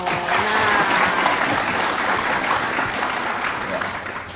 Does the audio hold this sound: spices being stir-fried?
no